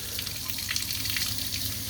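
Camper van water pump and hot water heater running together beside a 20-gallon water tank, giving a steady, close hiss of running water over a low continuous hum.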